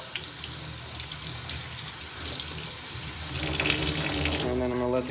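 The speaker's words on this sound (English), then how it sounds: "So let's stick this in the sink and see what happens here." A sink tap runs water to wet watercolor paper, a steady close hiss of flowing water that grows a little fuller and shifts in tone toward the end as the stream hits the paper.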